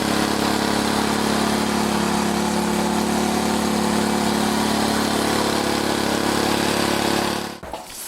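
An Etesia Pro 50R petrol lawn mower engine runs steadily at idle with a broken gearbox drive, a loud continuous hum that cuts off abruptly near the end.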